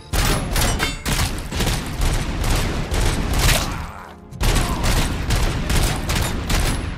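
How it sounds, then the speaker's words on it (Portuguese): Heavy, powerful pistol fire in the RoboCop: Rogue City video game, a dense, loud barrage of rapid booming shots nearly filling the whole stretch, with one short lull before the volley resumes. "Pistola com poder titânico."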